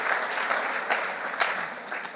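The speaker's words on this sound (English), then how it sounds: "Give yourselves a round of applause." A roomful of people at an Alcoholics Anonymous gathering claps in a sustained round of applause, dense and even with a few sharper peaks, close and loud.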